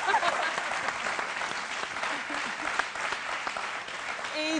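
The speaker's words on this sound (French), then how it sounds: "Et vous n'applaudissez pas là pour le boss." A studio audience on a French-language midday TV show breaks into steady, dense applause, many hands clapping close together throughout without a pause, with a faint voice at the very end.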